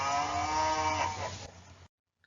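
A single cow gives one long, loud moo lasting over a second and a half, rich and droning, then cuts off to near silence with no voices.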